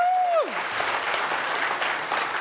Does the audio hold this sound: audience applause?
yes